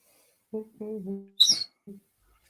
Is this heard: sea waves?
no